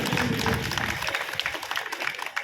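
An audience at a school event applauds a student, a dense wash of clapping hands that starts full and thins into scattered claps as it fades.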